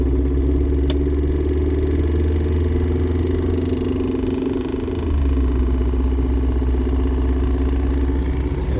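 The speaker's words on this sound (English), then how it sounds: "it's definitely coming from my drive shaft, and I can kind of feel it on the tunnel" A Mercedes C230 driving at low speed carries a steady engine drone with a deep, continuous low rumble from the driveshaft area, loud and close from inside the cabin, dipping briefly midway before resuming.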